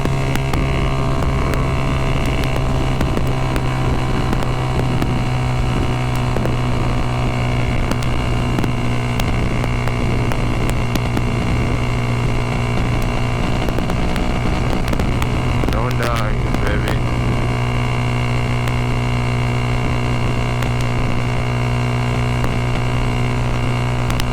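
A Kawasaki ZX6R motorcycle engine drones steadily while riding at speed, loud and continuous with heavy wind rush over the microphone throughout.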